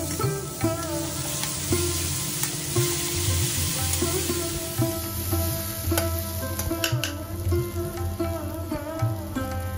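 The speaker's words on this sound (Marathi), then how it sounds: "हा मसाला छान परतून झाला की त्यात टाकूया थोडंसं मीठ" A masala paste with ginger and curry leaves sautés in hot oil, sizzling and crackling continuously, with intermittent stirring scrapes and light clicks against the pan.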